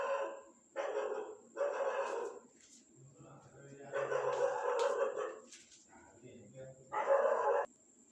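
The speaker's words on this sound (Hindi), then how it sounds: "वो कुत्ते बाहर भौंकने लग रहे थे" Several dogs bark outside in bursts, loud and somewhat distant, with repeated volleys across the span and brief gaps between them.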